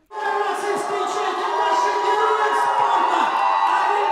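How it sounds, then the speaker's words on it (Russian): At an airport, a welcoming crowd greets a returning Olympic champion with loud cheering, shouts and whoops, a sustained roar of many voices starting abruptly and holding steady, with scattered clapping underneath. "Вокруг раздавались аплодисменты и радостные крики"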